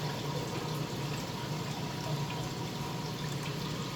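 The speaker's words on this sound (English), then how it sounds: "There's the siphon. You can watch that waterfall. You see how quick that's going down?" Water rushing down through a siphon into the sump of a multi-tank aquarium system, a steady close gurgling, splashing flow like a small waterfall with no pauses and no voices.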